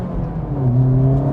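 A 2025 Acura Integra Type-S accelerates hard in first gear, its engine note climbing smoothly in pitch over a short, loud, close burst.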